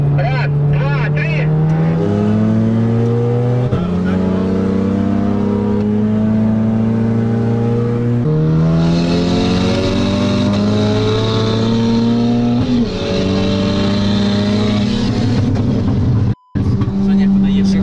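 Cars including a BMW X3 M40d and a Skoda Superb 2.0T 4x4 launching hard from a standing start in a drag race, heard from inside as the engine climbs loudly through repeated gear-shift steps, with people talking over the roar.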